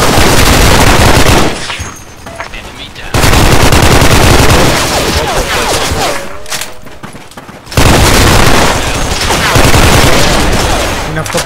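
Loud, sustained automatic fire in the first-person shooter Special Forces 2, delivered in several long rattling bursts separated by brief quieter gaps, with a voice speaking between volleys.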